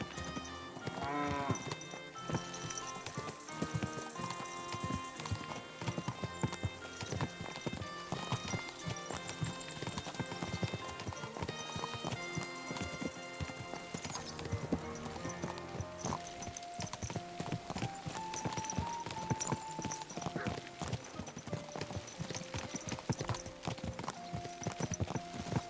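Horse hooves clip-clop steadily on the ground while riding in Kingdom Come Deliverance 2, the footfalls mixed under a busy bed of music and ambient game sound.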